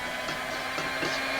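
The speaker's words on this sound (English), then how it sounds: "I believe we're taxing this mixer mightily" An electric mixer whips margarine-based batter toward stiff peaks, a steady strained whirring hum running continuously and close throughout, with no talking.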